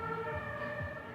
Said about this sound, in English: And now the ambulance.